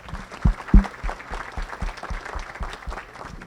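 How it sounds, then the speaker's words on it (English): Audience at a small business summit in McAllen claps for business owners, a dense round of applause with a few sharp loud claps near the start, continuing steadily. "I do want to give you a round of applause"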